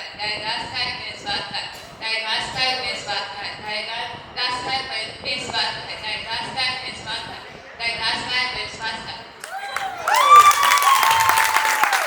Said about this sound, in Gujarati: તાળીઓ ભેગા